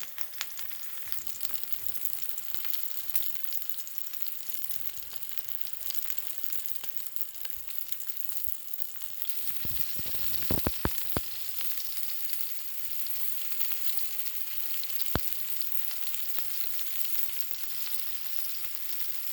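Coffee-rubbed flat-iron ribeye steak sears in a very hot pan, giving a steady, loud broadband sizzle throughout with a few sharp crackles and pops near the middle.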